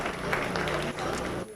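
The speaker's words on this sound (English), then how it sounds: "Let's give these commercial heifer exhibitors a nice round of applause" A county fair crowd gives sustained applause to commercial heifer exhibitors at a cattle show, a steady dense patter of clapping that fades at the end, with a voice speaking over it.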